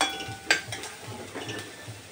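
Turmeric and asafoetida sauté in oil in a pan, a soft sizzle under repeated light scrapes and clinks of a spoon against the pan, close and without speech.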